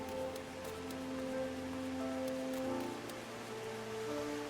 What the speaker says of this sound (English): I don't like that it's raining and storming while we're here